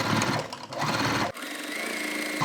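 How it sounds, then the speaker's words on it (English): A sewing machine stitches along the side seam of a fabric toiletry bag, a steady close whirring drone that shifts pitch partway through and carries on alone. "Let's sew along the side here."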